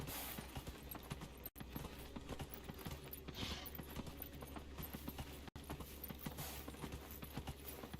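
Horse hooves gallop at a steady, quick clip-clop rhythm through Dragon Age Inquisition, the continuous pounding running the whole stretch at moderate level, broken only by two brief cuts to silence.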